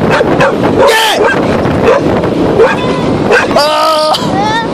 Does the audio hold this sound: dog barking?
yes